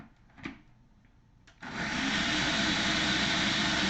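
After a couple of light knocks, a blender or mixer switches on and runs at a loud, constant whir while whipping cream into homemade butter.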